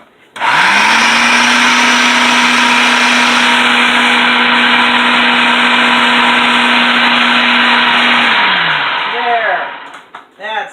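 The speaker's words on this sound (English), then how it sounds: "When it starts climbing the sides of the food processor, I know it's ready to go." A food processor whirs steadily as it mixes buttermilk biscuit dough with butter, a loud continuous motor hum holding for about eight seconds before winding down and stopping.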